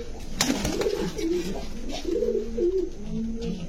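Red checker racing pigeon cooing in soft, repeated throaty phrases, fairly close, with faint background noise and a brief sharp knock early on.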